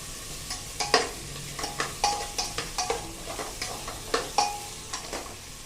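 Ingredients including potato and tomato are stirred and sautéed in a pan for Khandeshi masala khichdi, with sizzling and repeated sharp scraping and clinking strokes of a spoon against the pan at a steady, uneven rhythm, close up.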